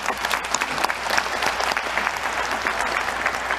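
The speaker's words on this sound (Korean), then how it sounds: "여러분 큰 박수 부탁드립니다" Audience applause after a presentation on military AI and drones at a televised Korean policy meeting, a dense steady wash of many hands clapping at moderate level throughout.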